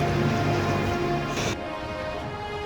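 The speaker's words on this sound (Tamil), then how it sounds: "மழை பெய்யுப்பா." Steady rain falls during a three-day trip to Ooty, a dense broadband hiss of drops on surfaces that stays loud throughout and drops a little in level partway through, with no voices.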